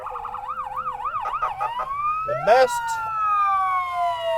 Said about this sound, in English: here comes the lineup of every fire truck and ambulance